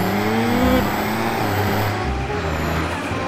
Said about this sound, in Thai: ชอบเสียงรถไถมากเลยอ่ะ